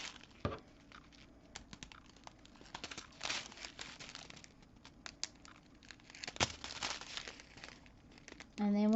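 Plastic packets of diamond painting drills are snipped apart, giving close, intermittent crinkling and crackling with scattered sharp clicks and a short voiced sound at the very end.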